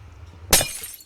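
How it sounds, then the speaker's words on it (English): Nether portal breaking in the Minecraft video game, one sudden glassy shatter with a bright crash and short tinkling decay, heard after a quiet low hum and standing alone with no voices. "The sound of breaking a portal also sounds like breaking glass."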